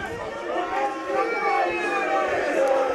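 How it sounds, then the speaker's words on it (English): A raucous crowd of Swansea University fans at a BUCS Super Rugby match against Cardiff Met, a steady roar of cheering and chanting voices that swells gently over its length, loud and close, with a commentator talking over it. "a big cheer from the"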